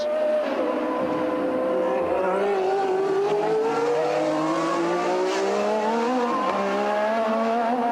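A brand-new Williams Formula 1 car on radial Michelin tyres racing at the 1981 US Grand Prix, its loud engine note whining and climbing steadily in pitch as it accelerates, then dipping briefly before rising again.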